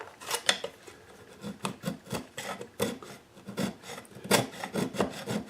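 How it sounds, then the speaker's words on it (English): Wooden wedges are trimmed along the neck block of a soprano ukulele in a handmade build, giving a run of close, short rasping and scraping strokes in an irregular rhythm, with no voices. "Now what I'll do is trim away these wedges that I put in right along the neck block."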